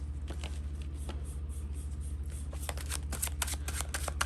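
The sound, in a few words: shuffling a deck of tarot cards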